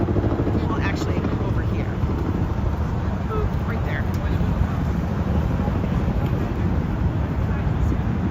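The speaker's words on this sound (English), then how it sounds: "Got a helicopter up." A helicopter drones overhead above the Brooklyn Bridge in New York City, a steady broadband rumble under constant wind noise and distant city ambience throughout.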